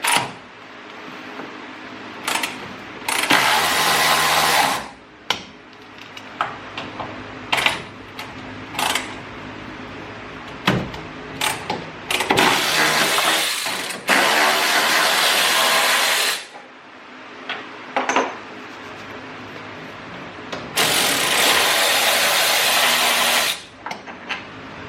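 Power tool work removing bolts on a Honda Civic sedan during a spherical bearing suspension upgrade: repeated loud bursts of an impact tool or air gun, several lasting a few seconds, separated by short clicks and clanks of handling.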